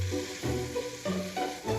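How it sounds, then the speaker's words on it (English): Browned lamb and stew ingredients sizzle in a pan as they are stirred, giving a soft, close crackle in short uneven bursts. "sizzling away here."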